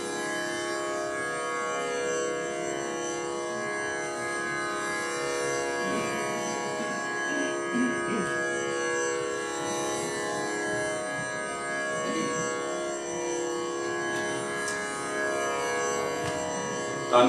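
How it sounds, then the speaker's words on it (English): A tanpura drone plays as a continuous, even, shimmering tone with steady harmonics, alone and at moderate level throughout. "Tanpuras are okay, it's not too loud. You can hear tanpuras."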